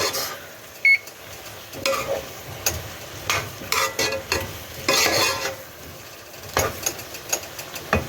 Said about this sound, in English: I'm going to keep stirring on these potatoes, the garlic, the onions, all that